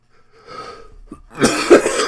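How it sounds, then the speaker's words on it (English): A single loud cough bursts out near the end, preceded by a fainter throat sound and breathing, with no talking. "There's that cough."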